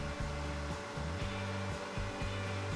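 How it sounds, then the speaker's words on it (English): A wood lathe spins at about 3000 RPM during a friction-buffing finish, giving a steady close motor hum with a low, regularly pulsing throb repeating several times each second. "With the lathe running at around 3000 RPM, or the fastest your lathe can go"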